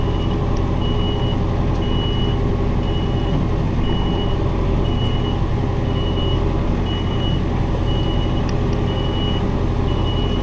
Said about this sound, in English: I'm really going to have to do something about this backup beeper.